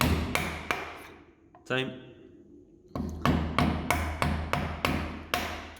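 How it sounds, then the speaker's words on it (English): Hammer blows drive a chisel through a wooden through housing joint, sharp close strikes coming in a regular series with a short pause, and a brief spoken word in between. "I will begin chiseling through again"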